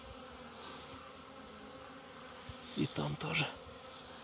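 Honey bees buzz around opened hives on a spring cleansing flight, a faint continuous hum with a few louder passes as bees fly close to the microphone, and a brief spoken remark is heard.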